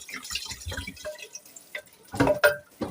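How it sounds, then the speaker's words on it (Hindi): Two glasses of water are poured into a cooking pot of meat with turnip and spinach, making short splashing and dripping bursts, with a louder pour near the end, close and alone. "अब मैं इसके अंदर 2 गिलास पानी शामिल कर रही हूँ।"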